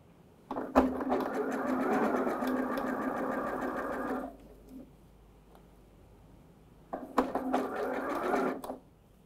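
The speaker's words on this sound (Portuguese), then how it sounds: "Então vamos fazer o pesponto agora." A sewing machine topstitches a satin cap in two bursts: a steady, fairly loud whir of several seconds, a pause, then a shorter second run, heard close and alone.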